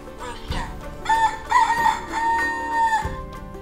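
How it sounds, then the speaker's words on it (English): A rooster crows once, a long, clear cock-a-doodle-doo in several rising and falling parts, close and loud. "The rooster wakes the farmer in the morning."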